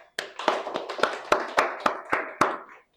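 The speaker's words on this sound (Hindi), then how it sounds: "एक बार तालियां जोरदार।" A few people clapping in a classroom, about ten sharp, separate claps in an uneven rhythm that fades out, close and dry with no talking.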